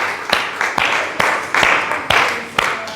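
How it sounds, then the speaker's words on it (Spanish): Church congregation applauding during a Spanish-language Bible study service, a steady broadband clapping wash with several sharper accented claps rising and falling across the stretch, fairly close and full, with no talk over it. "Un aplauso para el Señor."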